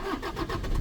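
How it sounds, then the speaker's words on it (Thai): A car engine cranks and catches during a driving lesson, a brief, quiet mechanical churn lasting under a second. "ติดจักรรถ"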